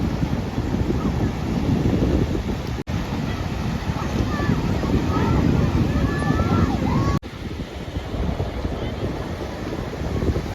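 Sea surf rolling onto the shore at Janjmer beach, a broad steady roar of waves heavily mixed with wind buffeting the microphone, with faint voices of children in the distance.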